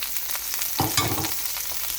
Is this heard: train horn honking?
no